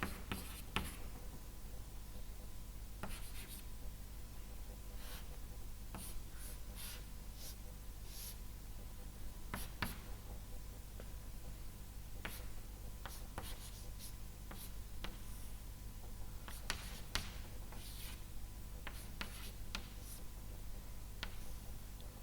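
Chalk or marker strokes on a lecture board while a palladium-catalysed organic reaction product is drawn out, irregular scratchy taps and swishes over a steady room hum, with no talking.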